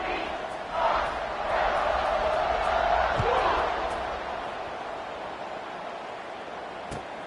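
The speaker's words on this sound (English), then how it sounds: "this crowd is buzzing after that last score" A football stadium crowd buzzes after a score at a college game between the Dukes and the Beavers, a dense roar that swells early, holds, then slowly eases while the kicking team readies the kickoff.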